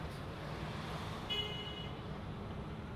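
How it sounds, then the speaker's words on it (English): A short, faint honk of a car horn cuts through steady traffic and road noise, brief and somewhat distant. "Why are you gonna honk? It's not New York!"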